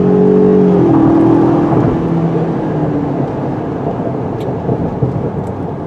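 A 2020 Ford Ranger 4x4's turbocharged engine pulls under acceleration through its 10-speed automatic, a steady cabin drone with rising harmonic tones that shift as gears change, loud and continuous with no talking.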